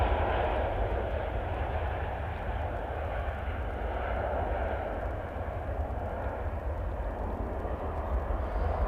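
A Jet2 Boeing 757 airliner, 37 years old, roars steadily on its final arrival, a broad continuous engine rumble filling the whole stretch at constant loud level with no voices over it.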